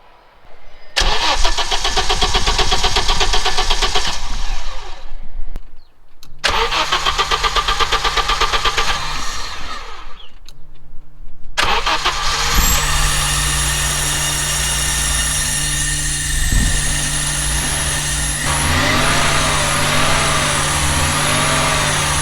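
An Audi Coupe B3 engine with Bosch K-Jetronic fuel injection cranks loudly twice in a few-second burst, then starts and settles into a steady running idle close by, with no talking.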